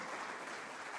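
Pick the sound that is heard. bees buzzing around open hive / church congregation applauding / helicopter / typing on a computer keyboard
church congregation applauding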